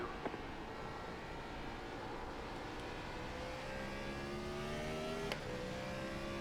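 A race car in a NASCAR video game at Martinsville, its engine revving and whining up through the gears while downshifting, pitch rising in sweeps and dropping, a continuous mid-level drone with no talk.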